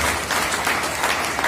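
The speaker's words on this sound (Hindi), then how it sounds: "तो एक बार चाहेंगे तालियां टीसी सर के लिए बजे" Applause from a seminar audience fills the whole moment, a steady dense clapping held at an even level throughout.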